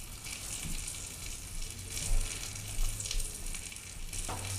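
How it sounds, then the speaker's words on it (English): Steady close sizzling and crackling of rinsed mushrooms frying in butter in a hot pan, with occasional soft stirring bumps and no voices. "we're going to go ahead and add the mushrooms, and we're going to add them to the butter"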